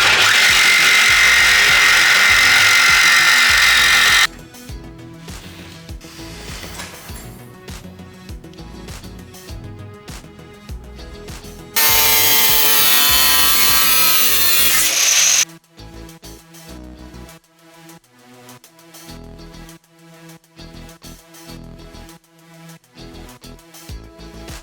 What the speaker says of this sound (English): we've got part of this lip cut off right here already, and we are going to get the rest of it and then grind it